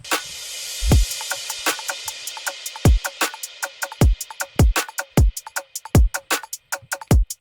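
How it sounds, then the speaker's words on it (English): Electronic drum section from a song, with punchy kick hits and crisp snappy percussion in a steady, driving pattern, loud and clean with no voices. "We have a drum section up the top that sounds like this."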